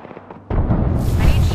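A grenade blast in the video game Apex Legends: quiet sound gives way to a sudden loud, sustained roar of explosion and broadband noise that stays heavy to the end.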